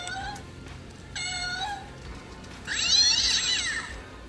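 A Halloween cat decoration in a store gives out several electronic meows, short high cries first, then a louder, warbling yowl near the end, over a low hum of shop background noise.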